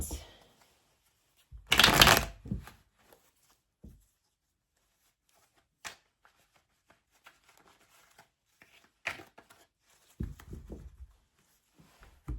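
Tarot cards are shuffled in a quick riffle burst close up, followed by scattered soft card taps and slides in a quiet room.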